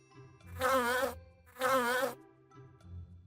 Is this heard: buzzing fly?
yes